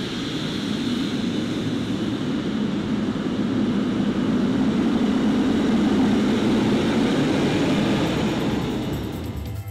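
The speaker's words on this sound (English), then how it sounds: "as they went past, you would get the roar and the whine of the turbofan engines" Airliner turbofan engines taxiing past close by on the Heathrow apron, a steady heavy roar with a high whine above it, swelling slightly and holding loud for the whole stretch before easing at the end.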